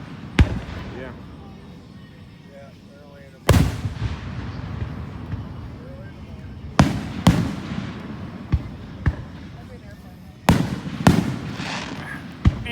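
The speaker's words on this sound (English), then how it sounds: "Aiming at the fireworks for a minute." Fourth of July fireworks going off: sharp booming bursts at irregular intervals, some in quick pairs, with crackling tails between them over a low background murmur of people.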